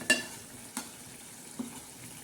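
A ground masala of green chillies, coriander, coconut and garlic being stirred in a frying pan for a surmai fish dish: three soft, spaced scrapes over a faint, quiet sizzle.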